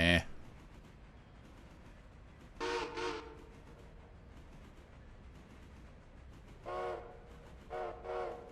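Steam locomotive whistle in the Railroader game: a quick double blast, then a lone toot and another double blast, sounding clearly over a low rolling rumble.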